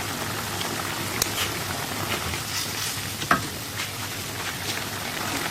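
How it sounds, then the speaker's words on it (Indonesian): Mie ayam Bangka seasoning sauce of soy sauce, oyster sauce and sweet soy simmers and sizzles in a pan, a steady close bubbling hiss with a couple of faint utensil clinks, no voices. "Masak hingga airnya menyusut"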